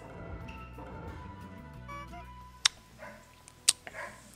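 Two sharp dog barks about a second apart, moderately close, with a softer yip after, over a low background hum.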